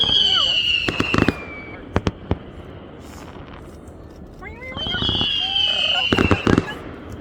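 Small fireworks go off outdoors, with rising whistles and sharp crackling pops in two clusters. Voices can be heard in the background throughout.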